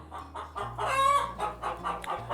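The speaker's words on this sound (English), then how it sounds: "I have that which is also laying. So when they do, they make those noises." A laying hen cackles loudly and close by in a repeated, rhythmic run of clucks after laying an egg, with a steady low hum in the background and no talking.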